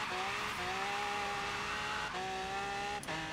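Race car engine in Forza Horizon 3 holding a steady, rising whine throughout, briefly dipping at gear changes around half a second, two seconds and three seconds, close and continuous with a faint tire hiss underneath.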